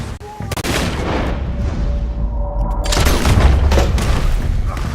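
Heavy gunfire in Red Dead Redemption 2, a burst of loud booming shots then a dense, sustained barrage of rapid rifle and gun blasts rolling on without pause.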